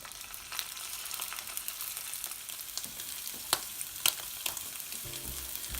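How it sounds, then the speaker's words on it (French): Scallops searing in hot olive oil in a small pan give a steady broadband sizzle with sharp crackles and pops, and a brief clatter near the end. "on prend une petite poêle, de l'huile d'olive et on va y faire dorer nos Saint-Jacques"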